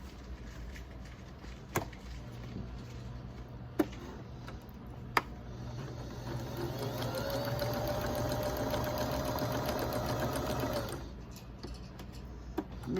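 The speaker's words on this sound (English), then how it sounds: "take it to the sewing machine and you will stitch diagonally from here to here" A few sharp clicks, then a sewing machine hums steadily for several seconds as it stitches, stopping with a couple more clicks; close and fairly quiet.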